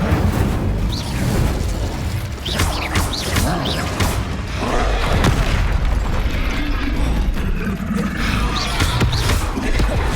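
Incendio fire spell cast in the video game Hogwarts Legacy, a dense roaring burst of flame with rumbling booms and crackling, loud and sustained across the whole stretch.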